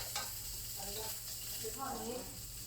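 Food frying in a pan in a home kitchen, a steady sizzle running throughout under a voice talking at moderate distance.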